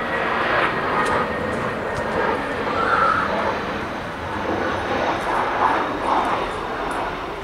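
An easyJet passenger jet passes overhead near a railway crossover, a steady broad roar that holds at a fairly even loudness throughout with slight swells, with no talk over it.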